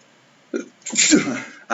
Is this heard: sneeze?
yes